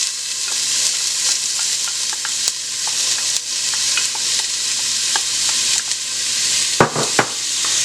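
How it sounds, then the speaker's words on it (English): Onion sautés in coconut oil, a loud continuous sizzle with repeated light clicks of a utensil stirring against the pan and a couple of sharper knocks near the end, with no talking. "Now in this oil here, coconut oil, I'm gonna add some onion."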